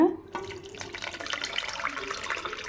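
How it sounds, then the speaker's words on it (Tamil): Tamarind water with rock salt trickles and splashes as it is strained, a faint, uneven liquid pour running throughout, with a soft voice briefly at the start. "கொஞ்சம் கல் உப்பு சேர்த்து கரைச்சிடுவோங்க கரைச்சி நல்லா வடிகட்டி எடுத்துக்கணுங்க"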